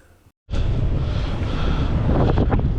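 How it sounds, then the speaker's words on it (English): Strong wind buffets the microphone on a boat while drift fishing, a loud, steady roaring rush with no one speaking, broken briefly by a short gap near the start. "just listen to that wind"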